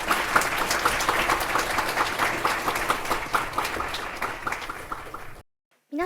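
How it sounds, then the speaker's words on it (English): Warm applause from an audience at a children's peace summit welcomes young speaker Yuna Nonaka, a dense steady patter of many hands that fades gradually, then cuts to silence before a brief sound at the end. "round of applause."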